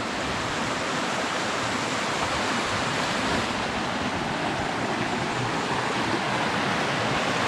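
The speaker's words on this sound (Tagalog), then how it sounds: "Ari po ang ilog." Continuous, full rushing of flowing river water, loud and close, with no pauses or voices.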